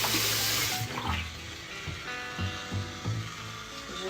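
Tap water runs at a bathroom sink as skincare product is rinsed off a face: a brief rush of running water that breaks into softer splashes and dribbling scoops of water.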